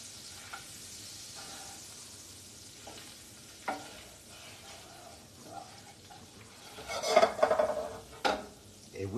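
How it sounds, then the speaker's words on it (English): Butter melts in a frying pan for scallops with anchovies and capers, a soft steady sizzle with a few sharper clatters of a utensil against the pan near the end, no talking. "we got to melt this butter out a little bit"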